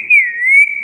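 A young boy whistles a single steady, clear high note for most of a second, close and loud, with no talking over it.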